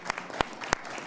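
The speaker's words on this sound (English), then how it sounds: "please give them a round of applause" Sparse claps from the audience at a university panel discussion on Foreign Service careers, a few distinct sharp hand claps spaced apart over low room noise.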